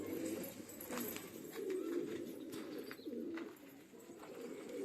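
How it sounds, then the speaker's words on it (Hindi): Domestic pigeons coo in a loft, soft low repeated coos from several birds, close by, with faint rustling around them and no talk. "देखो एक मनियाल कबूतर"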